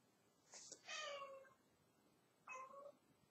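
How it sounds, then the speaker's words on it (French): A house cat meows twice, a drawn-out call followed after a pause by a shorter one, both quiet and close in an otherwise still room. "Ah, ça, c'est mon chat."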